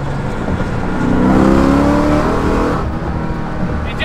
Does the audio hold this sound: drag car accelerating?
yes